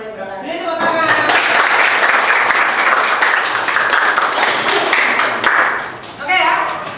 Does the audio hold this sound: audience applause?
yes